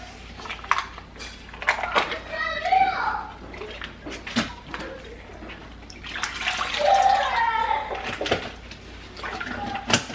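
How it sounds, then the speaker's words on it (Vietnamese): Running tap water splashes steadily while dishes and utensils clink as duck meat is washed, with a person talking intermittently over the washing. "Mình sẽ xả nước, mình rửa thịt trước."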